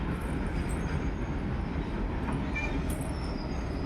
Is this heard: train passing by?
yes